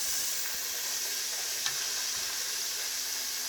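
Battered oysters sizzle and crackle in very hot oil, a steady close frying hiss with a few sharp pops as the oysters burst open.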